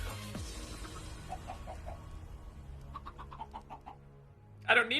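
Chickens cluck in short, evenly spaced bursts in a Minecraft game, a quiet run of pecking calls that ends in a louder, busier flurry of game noise.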